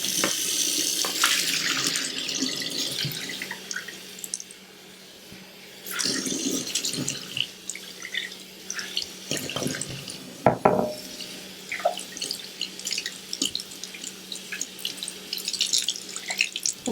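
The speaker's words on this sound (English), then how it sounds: "I'm just going to rinse them really good. Let the water run off." Soaked lentils are rinsed under a running kitchen tap, with close splashing and trickling water that pauses briefly midway before resuming, punctuated by small knocks and drips.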